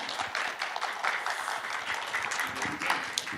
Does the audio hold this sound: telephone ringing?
no